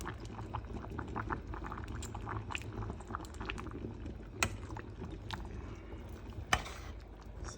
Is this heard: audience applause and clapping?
no